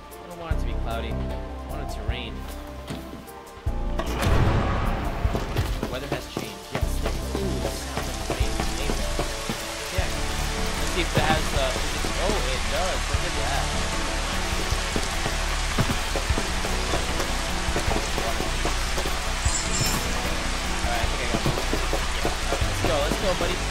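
Steady, dense hiss of rainfall in Final Fantasy XV that swells in after a few seconds and holds, with voices talking over it and game sounds in the mix.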